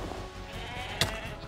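Goats bleating in Minecraft, a soft, wavering bleat from a game animal with a brief sharp click partway through, faint over a low background.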